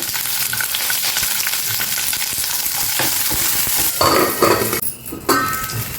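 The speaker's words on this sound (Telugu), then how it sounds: "అందులో ఒక కప్పు పల్లీలు వేసుకోండి స్టవ్ సిమ్లోనే పెట్టుకోండి ఇవి కొంచెం వేగిన తర్వాత ఇందులోనే ఒక ఐదారు పచ్చిమిర్చి వేసుకోండి" Peanuts and green chillies frying in a pan over a low flame, giving a steady sizzle with stirring scrapes and occasional clinks of utensil on metal. No one speaks.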